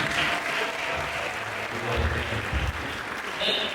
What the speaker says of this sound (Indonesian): Terima kasih untuk tepuk tangan.